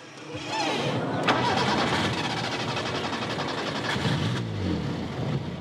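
An old bush taxi car's engine cranks and catches, then runs roughly and loudly at close range, with a voice talking briefly over the rattling engine noise.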